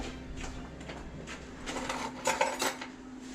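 A spoon clinks and scrapes against metal dishes and pots in a home kitchen during biryani cooking, a string of light irregular taps and clatters at close range, quiet and without talk.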